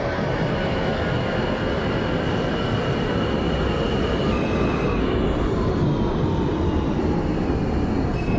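An R160A subway train on the R line, from the OpenBVE train simulator, rumbling steadily along the tracks with a constant low roar and faint high wheel tones throughout, no voices.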